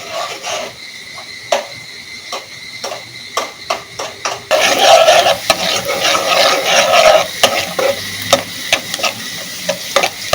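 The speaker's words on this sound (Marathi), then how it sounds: "आता तेल गरम झालेलं आहे. आपण त्यात कांदा घालून घेऊ." Onion drops into hot oil for spicy Kolhapuri misal, bringing a burst of bright sizzling after a few spoon taps on the pan, then a steady close crackle stirred at intervals, with no voices.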